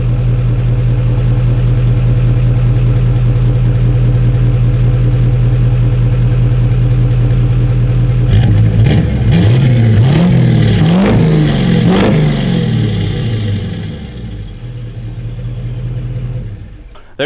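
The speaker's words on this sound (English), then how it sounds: "I guess I might as well rev it a little bit too." A 600-horsepower race truck's diesel engine (Power Stroke, stock-flow injectors) idles steadily at close range, then revs hard several times in quick bursts before settling back toward idle, loud and alone without talk.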